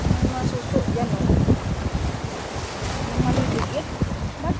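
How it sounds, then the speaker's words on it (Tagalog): Gusty sea breeze buffets the microphone on the shore, with a steady rushing roar and people talking underneath. "maganda yung simoy ng hangin, di ba?"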